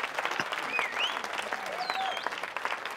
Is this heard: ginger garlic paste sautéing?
no